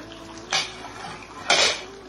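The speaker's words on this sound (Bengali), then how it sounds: "আমি এখন আবার ঢাকনাটা তুলে নিচ্ছি" A metal lid is lifted off a cooking pot of mutton dak bungalow simmering with potatoes, giving two short, bright clanks about a second apart against a quiet kitchen background.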